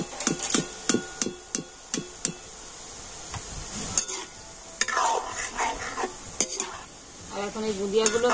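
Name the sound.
boondi deep-frying in oil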